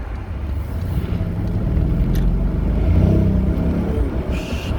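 Mercedes SL550 fitted with a K&N replacement air filter accelerating hard in sport mode, a loud, broad engine roar that swells and stays strong, mixed with rushing wind noise and no voices.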